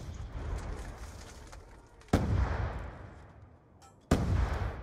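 Two sharp, loud blasts, like a grenade going off amid gunfire in the Black Ops 2 video game, burst over rumbling background noise a couple of seconds apart, each trailing off quickly.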